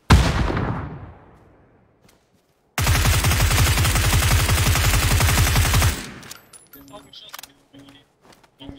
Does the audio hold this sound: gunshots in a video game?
yes